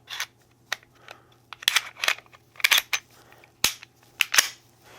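Sharp metallic clicks and snaps as a pistol slide is fitted back onto a Smith & Wesson M&P frame, a scattered run of close, crisp impacts with short gaps between them and no talking.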